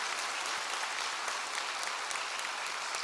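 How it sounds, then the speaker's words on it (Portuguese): A church congregation claps together, a dense, even patter of many hands filling the sanctuary for the whole short stretch, fairly soft in level. "Aplauda esse nome, o nome que está acima de todo nome"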